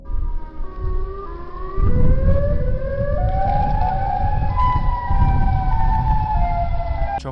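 A loud, wailing siren-like cry rising and falling in pitch over a rumbling, noisy background, continuing without pause.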